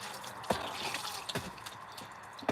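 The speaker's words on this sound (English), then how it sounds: "So what I'm going to do is I pour a little bit of water in," Water is poured for farm animals, a quiet trickle with scattered drips and small splashes, soft and close with a light outdoor background.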